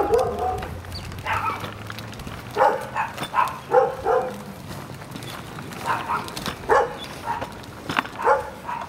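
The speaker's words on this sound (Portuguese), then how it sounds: "E tá latindo pra Carol?" A dog barks in short repeated bursts outdoors on grass while a child rides a tricycle, the barks recurring through the clip at moderate distance with faint voices around them.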